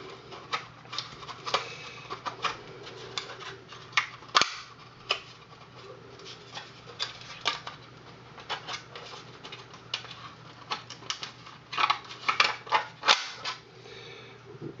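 The body is pried and torn off a glued toy shell: irregular dry cracks, snaps and crackling pops, close and fairly faint, in uneven bursts.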